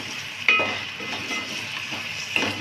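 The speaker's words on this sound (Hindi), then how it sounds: "टमाटरों को भी मैं इसी तरह 2 मिनट भून लूँगी" Tomatoes fry with spices in a pan for matar pulao, a steady close sizzle broken by two sharp metallic clinks of a spoon against the pan.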